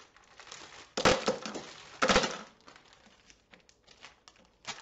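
Plastic bag of Kit Kats being opened and rummaged through, with two loud bursts of close crinkling and crushing followed by lighter, scattered rustles.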